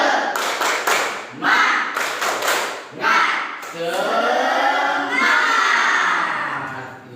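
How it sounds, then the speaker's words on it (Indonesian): A class of students claps out the 'tepuk semangat' rhythm, bursts of patterned claps and taps followed by loud chanting voices in unison, close and lively in a classroom. "kita lakukan tepuk semangat dulu bersama-sama ya"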